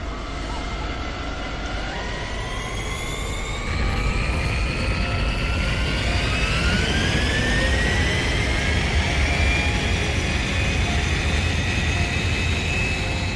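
A digivolved Blimpmon airship lifts off in the video game Digimon Story Time Stranger, its engine roaring as a steady low rumble that swells louder after a few seconds, with rising whining tones gliding upward over the drone.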